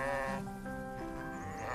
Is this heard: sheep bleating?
yes